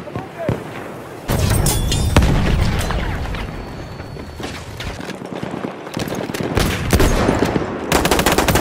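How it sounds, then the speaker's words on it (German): Sustained machine gun fire in the World War I shooter Battlefield 1, loud and close, rattling almost continuously with a few heavy booms mixed in and game voices calling out over it. "Maschinengewehr!"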